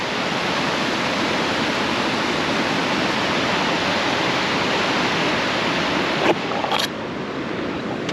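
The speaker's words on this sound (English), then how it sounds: "I don't know if that's the 3 falls." A mountain waterfall in Utah roars as a steady, loud, broadband rush of falling water, with a few brief clicks near the end.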